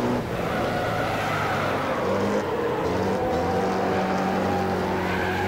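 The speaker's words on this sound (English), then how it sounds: "Drifting towards the post and wire again." Banger car racing in the Wreckfest video game, with a gutless banger engine droning steadily close by while tires skid and scrub as the car drifts wide, and no talk over it.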